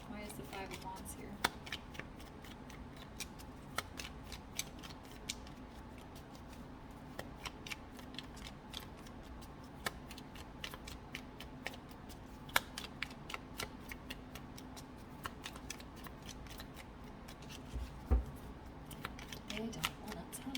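Tarot cards being shuffled by hand, a steady run of soft riffling and sharp snapping clicks that repeats throughout, fairly quiet and close, with no talking.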